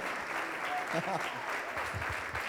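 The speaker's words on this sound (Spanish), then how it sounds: "denle ese aplauso al Señor" A church congregation applauds during worship, steady clapping with voices calling out and singing-like tones mixed in beneath it.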